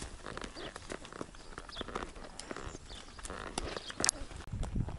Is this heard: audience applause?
no